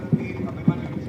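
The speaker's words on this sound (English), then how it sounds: "as he is mounted on the horse called Vajra." Horses' hooves clip-clop on a parade ground during a cavalry display at an NCC parade, with two distinct hoof strikes heard over a steady background of crowd and commentary noise.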